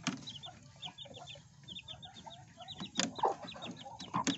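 Backyard mother hen clucking with her young chicks, steady soft clucks and repeated high peeping running throughout, with a few louder close calls near the end.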